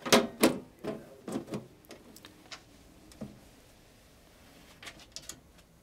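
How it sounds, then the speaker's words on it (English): Plastic and metal clicks and taps as a PC case side panel is fitted back into place, a quick cluster of sharp knocks at the start, then sparse, quieter clicks with pauses between. "Now we simply apply the side panel of the case again."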